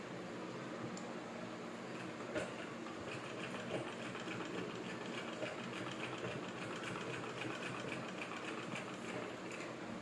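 Sewing machine stitching a frock bodice, running as a steady, fast mechanical whir with a dense rhythmic needle clatter throughout, close and unbroken with no speech.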